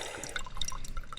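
Water trickling and dripping through a charcoal filter outdoors on a river trip, a steady close patter of small drops and splashes with no talk.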